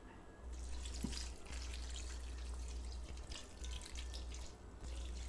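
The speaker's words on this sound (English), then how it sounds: "And then I'm going to add some water." Water runs steadily, pouring and splashing into a cooking pot of palm oil stew with chopped onions for several seconds, faint and continuous, with no talking.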